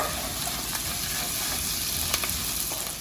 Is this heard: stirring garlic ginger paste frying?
yes